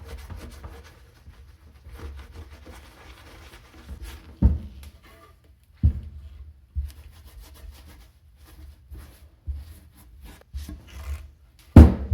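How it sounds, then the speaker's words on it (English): Microfiber towel rubbing over 1985 Jeep CJ-7 steering column parts with wax and grease remover, a steady soft scrubbing close by, broken by a few sharper knocks as parts shift. "I'm gonna take a microfiber towel, and I'm gonna wipe everything really good with wax and grease remover"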